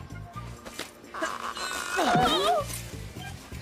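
A cartoon puppy whimpers and whines in a rising, wavering series of high yelps, fairly close and clear, with short bursts of music around it.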